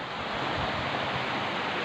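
A village creek running hard in winter, swollen with rain and snowmelt, gives a broad, constant rushing roar close to the microphone, steady and unbroken with no voices.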